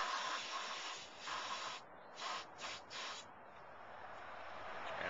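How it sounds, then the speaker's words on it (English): Cleaner sprayed onto the brake caliper piston of a Ford Focus during a front brake pad job, heard as a steady close hissing spray with several short bursts in the middle, no talking. "Actually, I'm going to spray the piston."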